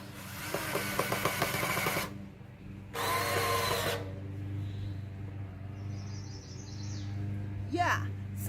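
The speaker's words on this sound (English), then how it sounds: "now I'm gonna put the screw in" A power driver sinks a screw into a metal dog-crate arbor in a garden, two short loud whirring bursts separated by a pause, followed by quieter outdoor ambience with faint bird chirps.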